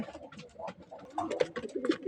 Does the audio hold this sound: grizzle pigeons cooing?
yes